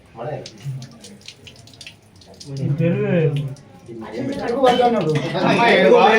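Water splashes and pours over a Shiva linga during abhishekam at the Uma Maheshwara sahita Ayyappa Swamy temple in Parakala, running steadily beneath people talking nearby.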